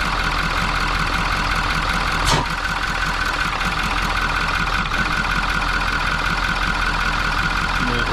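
A Ford 6.7 Powerstroke diesel engine idles on a cold start with a steady, close rumble and a faint rhythmic ticking running throughout, broken by one short thump partway in.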